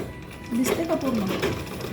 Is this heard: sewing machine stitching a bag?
yes